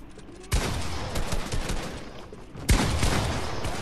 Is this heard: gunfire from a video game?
yes